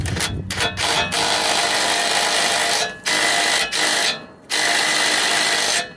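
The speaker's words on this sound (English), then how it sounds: "I'm gonna get my impact on there" Impact wrench hammering on a rear shock bolt of a 2019 Honda Odyssey, loud rattling bursts broken by short pauses, close up with no talking.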